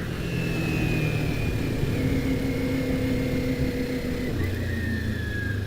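A 2022 Kawasaki Ninja 400 KRT motorcycle engine hums steadily while climbing uphill on Mt Umunhum, held loosely between second and third gear, with constant wind rush and a shift in engine tone near the end.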